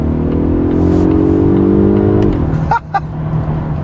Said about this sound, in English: makes a beautiful growl. And you don't even hear the turbocharger because of the whine of the supercharger